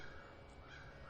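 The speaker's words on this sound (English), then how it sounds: "now you're going to hear nature. The loudest friggin' birds ever." Crows caw continuously outdoors, their harsh calls blending into a dense, steady wash of birdsong and ambient noise that fills the whole moment at a fairly even loudness.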